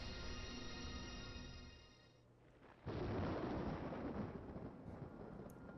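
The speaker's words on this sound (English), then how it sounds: "Thunder and lightning are oh so frightening." Thunder in the video game Devil May Cry: a fading rumble gives way after a short lull to a sudden loud crack that rolls on and slowly decays.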